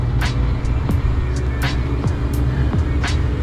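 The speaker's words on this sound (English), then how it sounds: "That truck was pretty close." A truck passes close by on a road beside a Colorado mountain bike trail near Blodgett Peak Open Space, a loud steady engine and tire roar filling the clip with a few sharp clicks and rattles over it.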